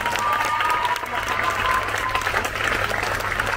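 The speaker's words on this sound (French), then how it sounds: "Je vous demande un tonnerre d'applaudissements pour Yanis." An audience at a fitness event applauds a sports coach, loud and continuous thick clapping with some crowd noise and voices mixed in, steady throughout the few seconds.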